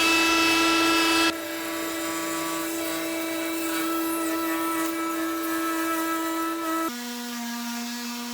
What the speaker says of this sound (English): I'm going to use my router to cut out these lines perfectly